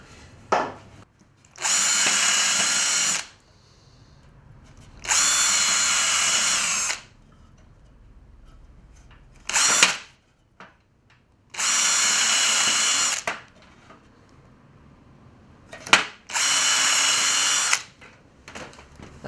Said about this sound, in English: I'm going to whiz these in with regular decking screws